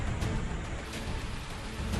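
Heavy monsoon rain pours in a jungle area near a river, a dense steady hiss with no break across the short stretch, loud and close with no voices.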